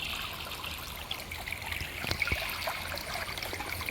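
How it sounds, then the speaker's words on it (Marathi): A small trickle of water runs through a green teak plantation, a soft, faint, steady babble with a few brief splashy drips and no voices. "आणि असं एक छोटासा पाणी येता."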